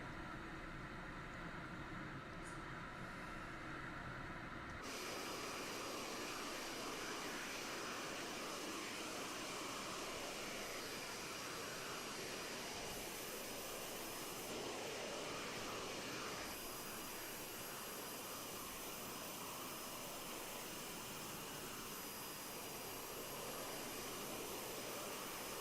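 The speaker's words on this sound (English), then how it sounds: "there's that plane there off in the distance," A low-flying T-45 jet over Hawaii in a flight game, its engine a steady broadband roar that swells when the scene shifts and then holds loud and continuous, with no voices.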